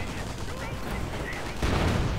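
Video game battle with dense gunfire, machine-gun bursts and explosions amid rockets and flamethrowers, a steady loud barrage that swells heavier near the end.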